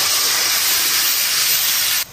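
Warm water poured into a hot wok holding sausage and chili oil gives a loud, steady steaming hiss and sizzle that runs nearly unbroken, then drops off abruptly at the end.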